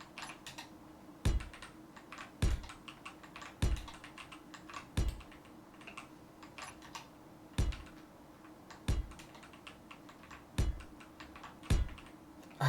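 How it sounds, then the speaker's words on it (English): Loud computer keyboard clacking in irregular bursts of keystrokes, with heavier thumps about every second, close and clear over a quiet room background with no talking. "I have extremely loud keyboard."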